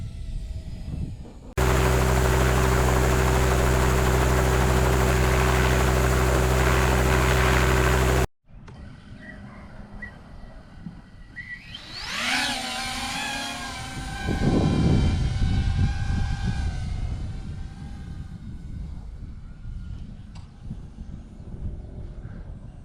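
A small FPV racing drone flying outdoors: a loud, steady droning tone gives way to a high, whining motor buzz that sweeps up and down in pitch as it passes close by, then a rushing burst of noise.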